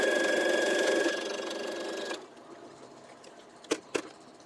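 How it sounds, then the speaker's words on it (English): A sewing machine runs steadily for about two seconds stitching quilt pieces along drawn lines, then stops, leaving a quiet room with two sharp clicks near the end. "I will sew on both sides of both of those X's"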